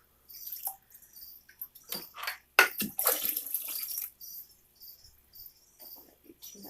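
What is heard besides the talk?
water filling Exoterra FX-350 turtle filter while priming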